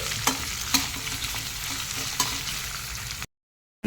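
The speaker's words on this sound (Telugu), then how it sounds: "అలాగే ఒక నాలుగు పచ్చిమిర్చి వేసుకోవాలి ఇవన్నీ కొంచెం బ్రౌన్ కలర్లోకి వచ్చేలాగా వేయించుకోవాలి" Green chilies fry in a pan, a continuous close sizzle with a few sharp stirring scrapes, cutting off abruptly near the end.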